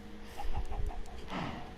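Minecraft chickens cluck in the game with a resource pack applied. There is a short series of clucks, moderately loud, over a steady background hum.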